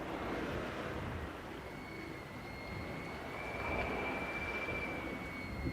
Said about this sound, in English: It's the sound of the wind going on the line